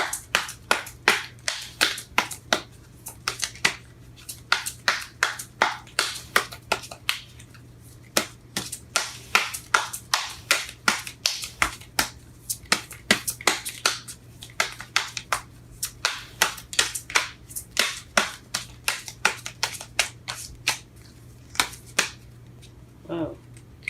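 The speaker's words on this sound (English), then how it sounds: "Shuffling these cards are hard." Tarot cards being shuffled by hand, giving rapid irregular bursts of crisp riffling and slapping clicks that keep going for the whole stretch, close and fairly loud, broken by brief pauses.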